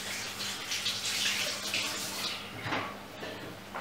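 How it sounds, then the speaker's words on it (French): Tap water runs steadily while hands are washed under it, a continuous hissing splash with slight shifts as the hands move through the stream, fairly close and with no talk. "Je me lave les mains."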